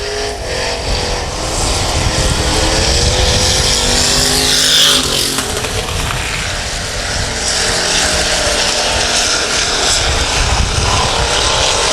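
Race cars roar around a dirt-track night raceway, a loud sustained engine drone with rising and falling whines as cars pass, swelling near the middle and holding steady throughout.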